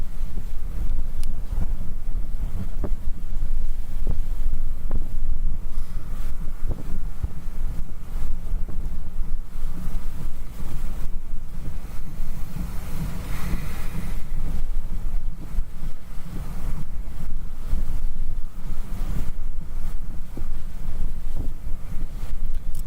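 Hurricane Nicholas winds near Matagorda, Texas, a loud constant buffeting roar with heavy low rumble pressing on the microphone, steady and unbroken throughout.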